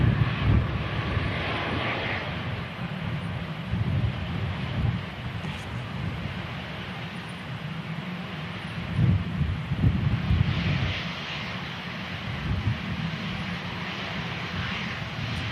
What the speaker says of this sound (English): Eurowings coming in from Stuttgart, which is an Airbus A319 next to land as well